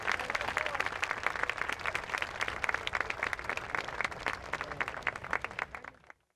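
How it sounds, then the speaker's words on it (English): An audience at a National Day of Peace ceremony gives a round of applause for the Department of Customs, fairly distant and faint, with dense rhythmic clapping that thins out and then stops abruptly. "Ladies and gentlemen, a round of applause for our Department of Customs."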